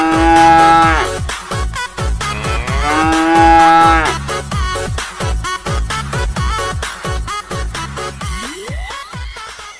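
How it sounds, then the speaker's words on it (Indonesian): A cow moos in two long, loud bellows over steady rhythmic music, followed by a rising whistle-like sweep near the end. "Wah, ternyata ada hewan sapi teman-teman."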